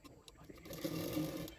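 A sewing machine runs up to a fast steady whir, stitching lining fabric to the main fabric of a bra-cut blouse, close and fairly quiet, with light clicks before it speeds up.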